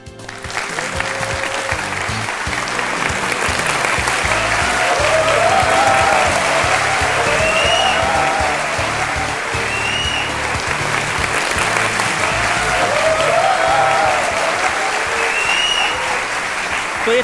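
Sustained studio audience applause on the set of a televised courtroom-style interview show, a dense, steady clapping that stays loud and even throughout, with no talk over it.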